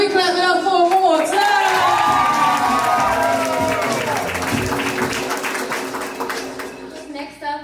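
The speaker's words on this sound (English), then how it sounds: "Can we clap it up for one more" Applause and cheering from an open mic audience, mixed with a sustained sung or musical tone in the first half and shouted voices, with clapping continuing beneath as the sound fades slightly.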